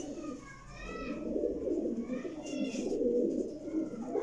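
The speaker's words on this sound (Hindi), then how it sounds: "यह जनाब मेरी सियालकोटी जमसीरा कबूतर जे" A Sialkoti pigeon coos close by in soft repeated rolling calls, with a low background murmur and faint voices underneath.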